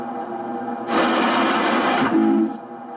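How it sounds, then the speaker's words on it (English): A Reading 2100 model steam locomotive releases cylinder blowdown, a steady broadband hiss of about a second rising over a humming background, followed by a short tonal whistle-like note before it stops. "That's known as cylinder blowdown, relieving the pressure out of the cylinders,"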